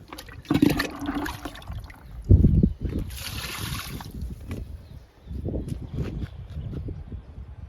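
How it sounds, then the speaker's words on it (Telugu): Liquid plant food poured into a potted plant in a home garden: several separate splashing pours and trickles, close by, with short quiet gaps between them. "ఇంకో మొగ్గు కూడా లిక్విడ్ ఇస్తున్నా"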